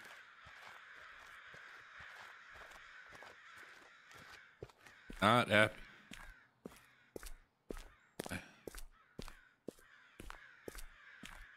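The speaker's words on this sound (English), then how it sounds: "What is up with these birds?" Crows cawing in the Japanese horror game Okaeri, a loud burst of harsh caws mid-clip followed by scattered sharp clicks and thumps, with a brief spoken remark.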